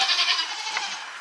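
Goats in a farm barn bleat loudly and close by in the morning, with one sustained, wavering cry filling the short moment.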